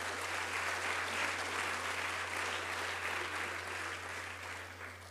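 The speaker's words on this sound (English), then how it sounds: "let's give him a round of applause anyway from Saddleback College" Steady round of applause from a seated audience at a college district opening session, dense continuous clapping at moderate distance with a constant low hum running underneath.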